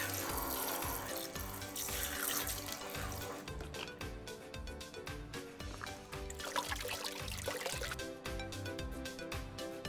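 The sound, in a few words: water running in toy kitchen sink playset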